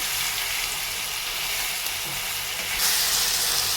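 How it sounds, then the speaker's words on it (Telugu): Ivy gourd and tomato fry in a pan while being stirred, giving a steady, close, dense sizzle and hiss that runs throughout and swells louder near the end, with no talking. "ఇప్పుడు వీటినే బాగా వేపుకోవాలండి ఇంకోనండి ఇలానే కలిపుకుంటూ ఉండాలి"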